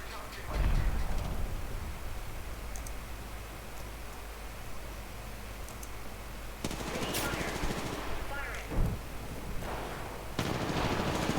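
Gunfire in a shooter video game rattles in steady bursts beneath a constant noisy hiss, with sharper shots and louder flurries toward the end.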